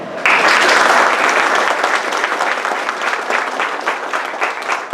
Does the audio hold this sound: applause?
yes